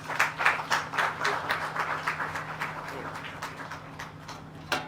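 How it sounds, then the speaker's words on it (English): An audience at the grand opening of a deed and commercial registries building gives a round of applause, a few hands clapping in uneven bursts that fade toward a lone final clap, with a low steady hum beneath. "Please give him another round of applause."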